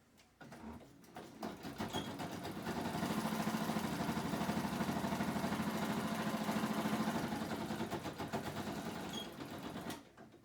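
A sewing machine runs a straight stitch through a notebook as a steady whirring, rattling hum that ramps up, holds for several seconds and then stops, close and alone.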